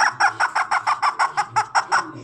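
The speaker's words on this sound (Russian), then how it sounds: "На тебя утка гавкает." A duck quacks about a dozen times in a quick, even rhythm, loud and close, each call short and nasal.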